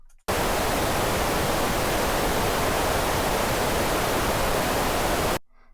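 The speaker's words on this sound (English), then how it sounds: "So 600 hertz sounds like this." Steady broadband noise with a 600 Hz EQ boost, continuous and loud from start to finish, cutting off abruptly at both ends.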